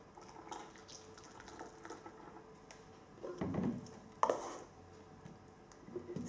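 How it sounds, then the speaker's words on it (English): Hot water is poured through a funnel into a metal Leslie cube in a physics lab, a quiet trickle rising into two short gurgling bursts of filling liquid, faint against a soft background. "insert the funnel and fill up with hot water"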